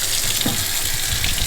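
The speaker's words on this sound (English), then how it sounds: "Go ahead and get this water started." Water runs steadily from a kitchen sink tap, a continuous close hiss and splash of flow into the basin, loud and unbroken with no talking.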